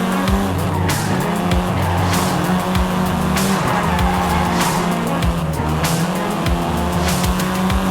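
Volkswagen Golf R in Forza Horizon 5, its engine droning loudly and steadily while the tires squeal and skid repeatedly in sharp bursts throughout.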